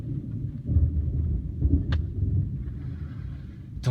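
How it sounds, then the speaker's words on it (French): Thunder rolls after a lightning flash during a storm, a low continuous rumble that swells and fades over several seconds, with a couple of brief sharp noises nearby and no talk. "T'entends le tonnerre?"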